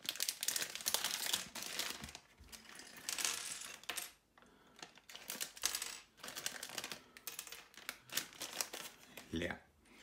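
Plastic bags of LEGO Hidden Side toy pieces from a magazine crinkling and rustling as they are torn open by hand, close, in irregular bursts with short pauses, someone speaking quietly at times.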